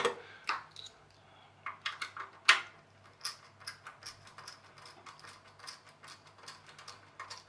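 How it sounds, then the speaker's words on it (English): Screws being undone on an old Sky box during a teardown, close, quiet clicking and ratcheting taps in an uneven, continuous rhythm with a few sharper clacks. "I'm just undoing every screw that I can."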